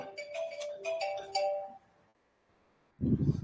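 A phone rings repeatedly with a chiming melodic ringtone, several short bright tones in quick succession, fairly close, followed by a pause and then a muffled low thump.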